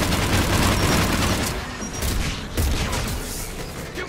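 Gunfire in the video game Mass Effect 3, a loud, continuous fusillade of rapid shots with booming impacts, slightly easing midway before flaring up again.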